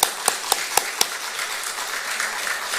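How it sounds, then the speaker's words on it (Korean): A church congregation at a Sunday praise worship service claps in rhythm, five or six sharp, evenly spaced claps opening the stretch, then a softer ongoing patter of applause. "살아계신 하나님 앞에 영광의 박수 올려드립니다."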